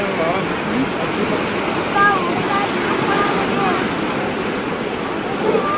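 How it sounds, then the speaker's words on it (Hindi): Water rushes loudly and steadily at Tipu Sultan Dargah in Srirangapatna, a continuous close roar filling the whole stretch, with faint voices beneath it. "ये यहाँ फोर्स क्या रहा है पानी का"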